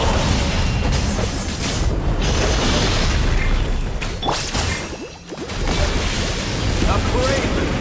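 A boss attack in Genshin Impact erupts in a loud, sustained fiery explosion, with dense booming rumbles and crashes filling the clip and a brief dip near the middle before the roar swells back, under voiced game dialogue.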